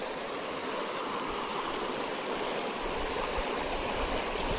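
Water from a stream flows steadily across a dirt track, a continuous broad rushing and gurgling that is loud, close and uninterrupted, with no voices.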